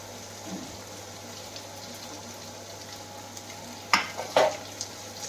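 Garlic, ginger and onion hit a hot pan for an egg curry and settle into a soft, faint sizzle, broken by a couple of louder clanks and splutters near the end.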